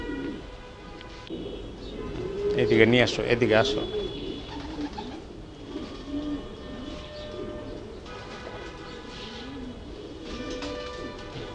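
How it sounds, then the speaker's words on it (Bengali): Racing pigeons in a flying loft coo and flutter softly in the background while someone talks, and a louder stretch of wingbeats and calls comes near the start. "এখন আমার ফ্লাইং লপটের কিছু কবুতর আপনাদেরকে দেখাইতেছি"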